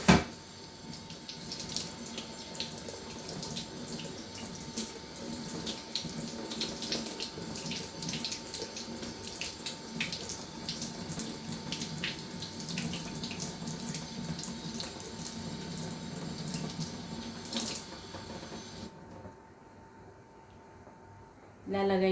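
Four sweet dates rinsed under a steady stream of kitchen tap water in a sink, the rush of running water continuous and close before cutting off near the end.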